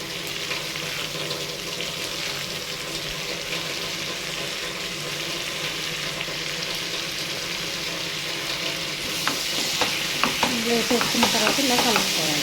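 Bottle gourd pieces fry in a hot pan with a steady sizzle throughout. Toward the end, louder stirring and scraping with clattering sounds breaks in as the pieces are mixed, with no talking.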